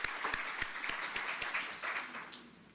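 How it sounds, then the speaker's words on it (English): Audience applause at a volunteer service conference in Louisiana, a moderate patter of clapping with a few sharper claps standing out, steady across the moment and not very loud. "Yes, that deserves a round of applause."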